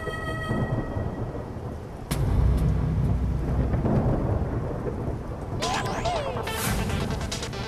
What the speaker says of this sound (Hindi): बाहर मस्त बारिश हो रही है।